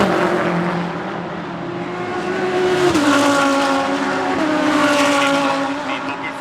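DTM race cars during qualifying at the Norisring street circuit, engines screaming loud and steady as a car blasts toward the line, the pitch shifting as it passes, with commentary running over the top.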